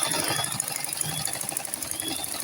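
A sewing machine runs a back stitch on fabric for an Agbada bubu, giving a steady, fast mechanical rattle of needle and feed that continues close and evenly throughout, with no voices.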